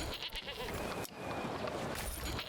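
Goats bleat near the goat sheds of a medieval village in Manor Lords, several overlapping calls over a dense farmyard ambience throughout.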